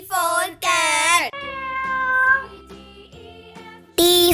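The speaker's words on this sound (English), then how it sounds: "C for cat." A cartoon cat gives a few loud, drawn-out meows in a children's animation, two at the start and one at the end, with softer tonal music between.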